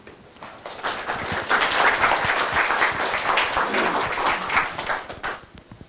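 A lecture audience claps together to welcome a speaker at a talk on addiction treatment. The applause swells quickly, holds as a thick, continuous patter, then tapers off near the end.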